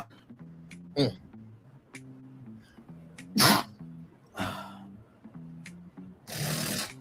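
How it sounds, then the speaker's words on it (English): Several sharp sneezes burst out between stretches of speech, each a sudden loud explosive blast, the last one long and forceful. "Those sneezes get harder when you get older."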